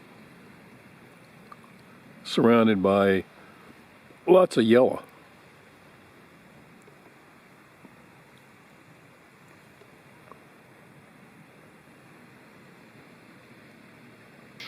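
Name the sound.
murmuring creek near a forest campsite at night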